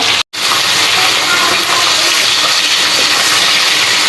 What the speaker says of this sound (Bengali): এখন আমি মাছগুলো ভালোভাবে ভেজে নিব